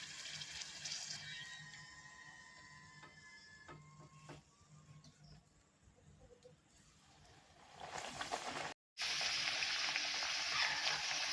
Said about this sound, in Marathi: आणि अशा पद्धतीने आता सर्व पुऱ्या मी तळून घेणार आहे.